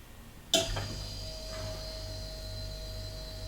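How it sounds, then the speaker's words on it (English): A computer water cooler hums steadily in a room, a low droning whir with a faint high whine, preceded by a brief sharp knock near the start; no one speaks. "that's obviously the noise of my water cooler here in the cave"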